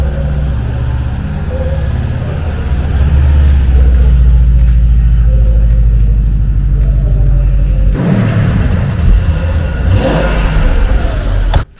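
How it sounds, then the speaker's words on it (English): Mercedes SL350 engine running at an auction, a loud steady low rumble that swells into a rougher rev partway through and cuts off abruptly. "start the car so I can listen to the engine"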